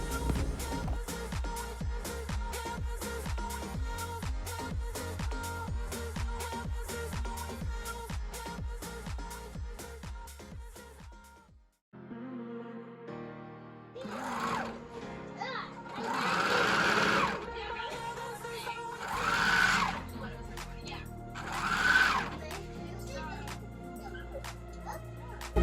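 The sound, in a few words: serger sewing down the sides of a wedding dress bustier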